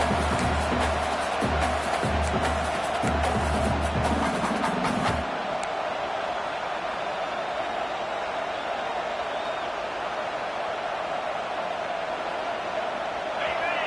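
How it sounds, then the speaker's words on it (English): Broad, steady roar of a football stadium crowd at a game, loud and continuous throughout, with a denser burst of noise and chatter in the first few seconds before settling into a sustained wash. "This crowd bringing the energy and noise early."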